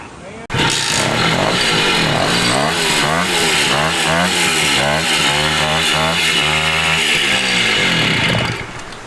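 A 1969 Morini 50cc two-stroke mini bike engine starts abruptly and runs loud and close for about eight seconds, a buzzing, raspy tone with rising and falling revs before cutting out.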